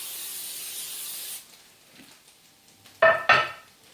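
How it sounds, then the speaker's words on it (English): A steady hissing spray of olive oil onto a baking dish for over a second, followed by a quiet pause and two sharp clatters of a pan or dish. "I'm going to spray my baking dish."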